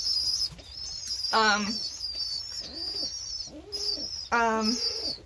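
Pigeons coo inside a loft, giving several low rolling coos close by, with high chirps and peeps layered above and a faint wing flutter.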